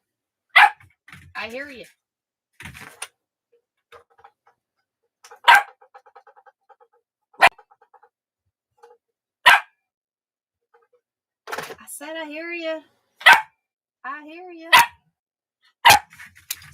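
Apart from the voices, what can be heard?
dog barking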